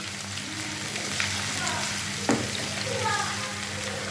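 Coarsely crushed ginger and garlic paste fries in hot oil until golden, giving a steady, moderate sizzle with a few brief clinks and stirring sounds close by, no talking.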